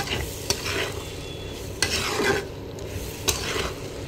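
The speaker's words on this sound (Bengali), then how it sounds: "এখন আমি ভালো করে বটটা কষিয়ে নিতে হবে, যত সময় না মশলার গন্ধটা চলে যাবে।" Beef tripe fries with spices in a pan, a close, steady sizzle broken by scraping stir strokes and occasional sharp knocks of the utensil against the pan.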